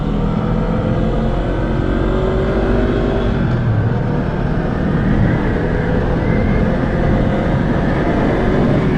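A 2023 Honda Rebel 500 motorcycle engine drones loud and close in a continuous rumble, with the revs rising and falling slightly and no pause over several seconds.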